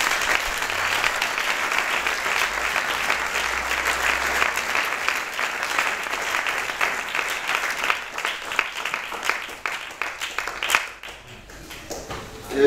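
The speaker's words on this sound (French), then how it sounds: "Une acclamation pour le Seigneur" Church congregation applauding in praise of the Lord, a sustained, fairly loud wave of many hands clapping that thins into scattered claps near the end.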